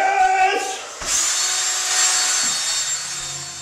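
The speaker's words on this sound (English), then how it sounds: "enjoy as much as I enjoy playing the power drill" A power drill played as a musical instrument: a tonal note first, then the motor spins up into a steady bright whirring whine that holds for several seconds.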